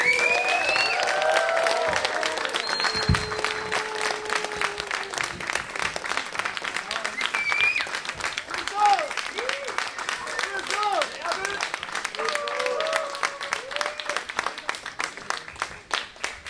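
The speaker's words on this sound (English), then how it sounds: "Everyone give a big round of applause for RZA." Audience clapping to welcome the RZA on stage at an interview and Q&A event, sustained applause with scattered cheers and voices, tapering toward the end.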